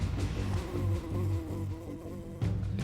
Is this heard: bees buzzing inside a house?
yes